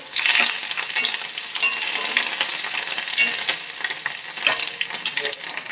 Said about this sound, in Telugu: ఇప్పుడు దీంట్లో కరివేపాకు, మనం కడిగి పెట్టుకున్న కరివేపాకు వేసేద్దామండి.